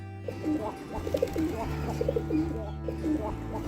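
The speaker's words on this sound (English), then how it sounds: "Pigeon. This is pigeon." A pigeon coos repeatedly in soft, low, rolling calls over a steady background hum, with a faint bit of other bird chirping.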